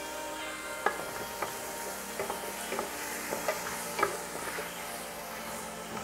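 Tomatoes sizzle in hot vegetable oil for Filipino ginisang munggo, giving a continuous close frying hiss with irregular soft ticks and scrapes as they are stirred; no one speaks.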